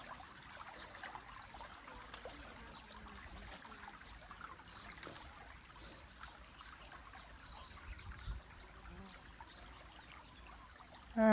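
Irrigation water trickles along channels to drumstick trees on a Gujarati farm in the morning, a faint, steady, soft flow with occasional distant bird calls.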